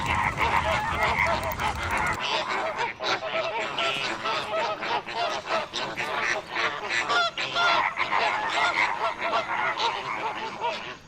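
Wild flamingos in the Okavango, Africa, a large flock honking and calling continuously, loud and close, their goose-like calls overlapping densely throughout.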